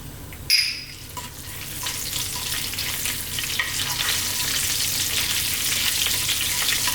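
Curry leaves sizzle hard in hot oil for a fish curry after a sharp splash as they drop in at the start, then a steady, close crackling fry continues throughout with no talking.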